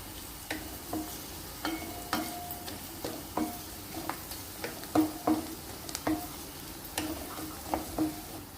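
Cashews, onion and green chili frying in oil for Andhra-style broiler chicken curry, a soft sizzle under regular spoon clinks and taps against the pan roughly every half second.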